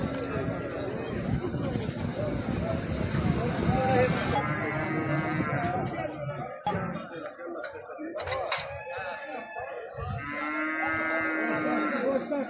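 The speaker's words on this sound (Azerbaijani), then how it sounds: "Qala qoyunları" Gala sheep bleat at a livestock market in Mashtaga, with several loud, drawn-out calls repeating close by over the chatter of people talking and a busy crowd.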